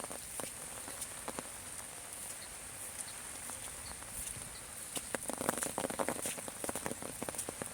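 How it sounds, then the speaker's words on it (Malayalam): Rain falls steadily outdoors with a constant hiss and scattered close drop patters, faint overall, with a thin high insect-like tone running beneath. "നമ്മളിവിടെ മഴയാണ്"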